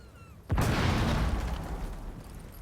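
A wall is blown open by a breach charge in a Rainbow Six Siege pro league match, a loud sudden blast that rolls on with a long rumbling, crumbling tail.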